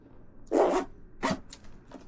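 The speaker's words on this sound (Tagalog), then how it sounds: "And zipper. Ayan yung zipper niya." Zipper on high-cut motorcycle riding boots with a strap, pulled in three quick strokes: a loud close rasp, a second shorter pull, then a faint brief one, with no talk.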